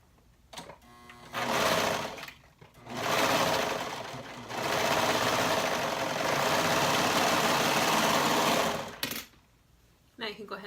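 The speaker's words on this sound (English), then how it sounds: "And then we'll sew that up with a 1/4 inch seam allowance." A sewing machine stitches a 1/4 inch seam on a bodice sleeve, running in several steady whirring bursts, one long run in the middle, with short pauses between.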